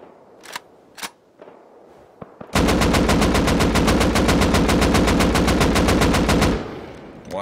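A rifle fitted with a muzzle brake fires in the Rust video game: a few scattered single shots, then one loud, sustained rapid-fire burst of about four seconds with evenly spaced reports.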